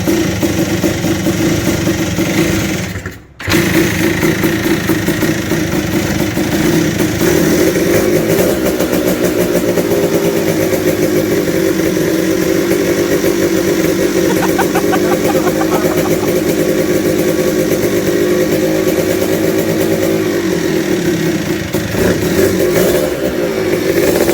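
Two-stroke engine swapped into a TNT 135 mini bike runs loudly and steadily up close, with a brief cut near the start and then a continuous buzzing drone as the revs rise and fall.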